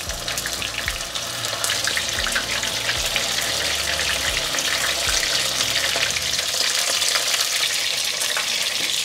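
Pork ribs fry in an iron pan with a loud, steady sizzle and crackle, accompanied by occasional stirring and scraping sounds, with no speech present.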